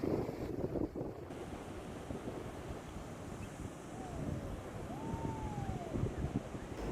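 Surf at a small point break south of Keta in eastern Ghana, the waves peeling off rocks over sand. It is a steady, continuous roar with wind buffeting the microphone throughout.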